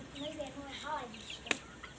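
Short burst of soft clucking from turkey hens, a few warbling calls close by, with a sharp click partway through.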